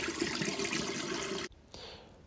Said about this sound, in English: We add water and make sure to wash the rice.